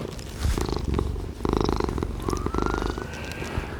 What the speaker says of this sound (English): You can hear him purring.